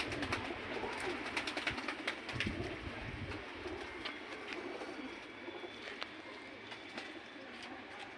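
Racing pigeon cooing softly in low, repeated murmurs, faint and close, with a steady rumble of background noise and no one talking.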